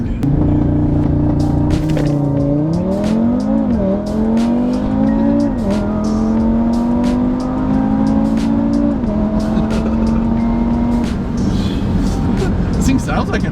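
Tuned Audi RS3 five-cylinder engine accelerating hard through several gears with a V10-like wail, loud and close, rising pitch sweeps broken by brief shift dips and some tire noise.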